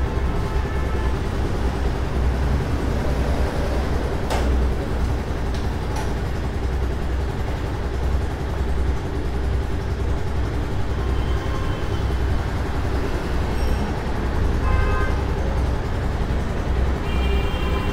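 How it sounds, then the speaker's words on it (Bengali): A motorbike engine idles steadily while its RPM is being adjusted, a close, continuous mechanical drone with no pauses and no talking. "বাইকের আরপিএম অ্যাডজাস্ট করতেছি এখন।"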